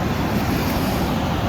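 Pacific Ocean surf washes steadily onto a beach, a broad, continuous roar with some wind noise and no talking.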